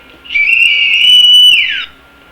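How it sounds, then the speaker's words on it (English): Rape whistles blown together by a group: one loud, shrill, sustained whistle blast holds steady for over a second, then bends downward in pitch and cuts off, with no speech. "let's blow our rape whistle on the count of 3"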